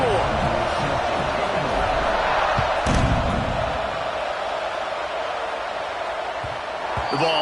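A college football stadium crowd in Akron, heard as a dense, steady roar of many voices across the whole span, with a few thumps and a commentator talking over it.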